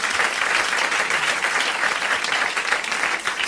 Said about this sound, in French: Bon, alors vous applaudissez Monsieur Legrand de Charleville,